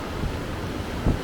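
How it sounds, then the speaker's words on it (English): Ocean waves on a West African beach in Ghana, a steady close wash of surf with wind buffeting the microphone and one brief louder rush near the end. "Waves."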